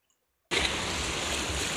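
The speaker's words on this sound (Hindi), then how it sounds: "और ये देखो गाइस पानी देखो ओ वाह कितनी सुंदर लहरें" Sea waves at Calangute–Baga beach in Goa rush in suddenly after a moment of silence, a steady broad roar of surf and churning water continuing close and loud.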